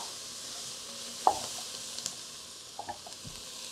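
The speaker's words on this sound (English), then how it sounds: "Vegetables are sweating down nicely. We can go ahead and add our meat back in." Meat dropped back into a pot of sweating vegetables for stuffed peppers, a soft sizzle with a few wet thuds and stirring clicks, quiet and close.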